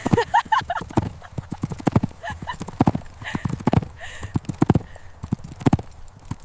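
A horse walks in a village with a brisk, steady clip-clop of hooves, the beats close and clear, and someone talks over the hoofbeats throughout.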